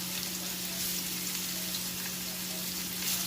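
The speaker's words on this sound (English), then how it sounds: "you're going to put them in just to brown them around the edges" Homemade meatballs brown in a frying pan with a continuous, even sizzle and a low steady hum beneath it, close and unbroken for the whole stretch, with no talk.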